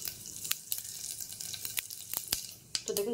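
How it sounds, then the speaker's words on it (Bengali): Panch phoron and slit dried red chillies crackling in a little hot oil in a pressure cooker, sharp irregular pops and spits over a soft sizzle, close and fairly quiet, with no talking. "কুকারে তেল দিয়েছি সামান্য, একটু 5 ফোড়ন আর শুকনো লঙ্কা ফোড়ন দেবো"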